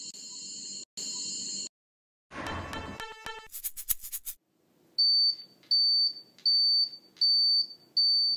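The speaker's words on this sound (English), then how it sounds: "I'm now going to add a buzzer to the circuit and convert electrical energy into sound energy." A small electric buzzer wired into a simple battery circuit gives a series of short, steady, high-pitched electronic tones in a regular on-off rhythm, close and clear, after some brief clatter of handling.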